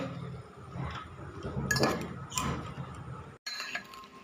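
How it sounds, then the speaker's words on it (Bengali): Cracked egg being mixed into boiled EP in a bowl, giving steady close clinking and scraping of a utensil against the bowl, with brief louder knocks and a short pause near the end. "ইপিটাকে সিদ্ধ করে জল ঝরিয়ে তাতে ডিমটা ফাটিয়ে দিয়েছি, ভালো করে মিক্স করছি।"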